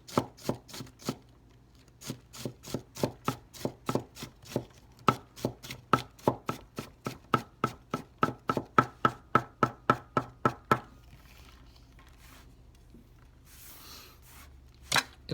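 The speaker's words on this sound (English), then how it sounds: "This is the knife doing the work." A Harukaze AS 240 gyuto knife chops food on a board in a steady run of crisp, evenly spaced strikes, about thirty close knocks over ten seconds, then stops, leaving quiet rustling.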